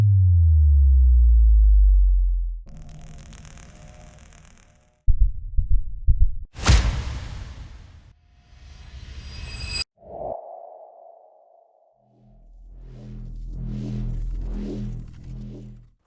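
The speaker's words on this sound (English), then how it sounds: "Cinematic sound effects." A sequence of cinematic sound effects plays with no talk: a deep booming low rumble, a buzzy textured hit, sharp crackling impacts, a bright whooshing burst, a falling tonal sweep and a swelling low drone.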